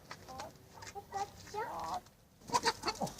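A hen clucking outdoors, a string of short, close clucks and squawks between moments of quiet, with a person calling softly in French.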